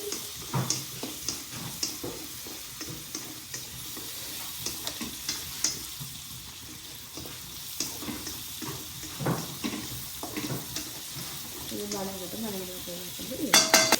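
Onions sautéing in a pan for a pepper liver curry, a soft steady sizzle with occasional stirring scrapes and clinks, fairly quiet and close, with no talking.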